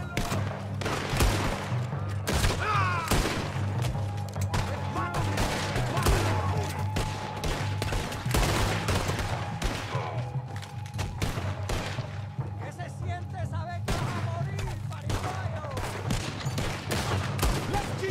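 Repeated booming cannon blasts and gunfire crackle through the Red Dead Redemption 2 soundtrack, with a low droning hum underneath and rapid bursts throughout.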